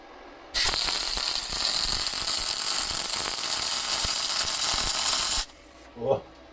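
A GTM semi-automatic MIG welder runs 0.8 mm wire near its 26-volt maximum. It gives a loud, continuous crackling sizzle for about five seconds, then cuts off abruptly, followed by a brief faint sound.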